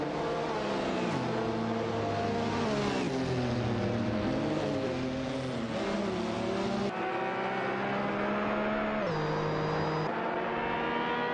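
Race cars speeding around a track in an AI race, engines droning loudly and continuously with shifting pitch as they accelerate and change gear, no voices.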